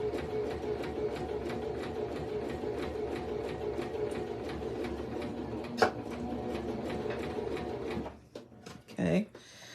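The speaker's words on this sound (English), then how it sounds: "we're just simply going to sew along this straight line" A Singer Start 1304 sewing machine runs steadily as it stitches a straight seam, a rapid even mechanical rattle that stops near the end, with a voice talking over it.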